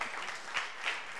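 A church congregation claps briefly and softly, a scattered, fairly distant patter of applause with no voices over it.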